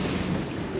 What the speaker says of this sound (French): c'est un vent qui est un peu rafaleux